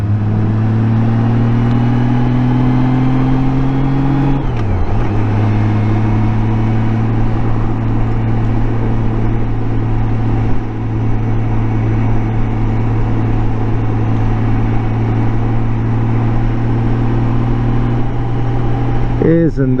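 A Honda GL 1800 motorcycle riding through a canyon gives a steady, loud engine drone with a brief dip and shift partway through, wind noise throughout.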